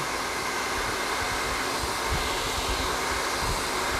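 A hair dryer blows steadily at close range while curly hair is being blow-dried, its even roar unbroken for the whole stretch.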